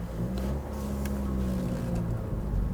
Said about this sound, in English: Engine note always sounds really good in this.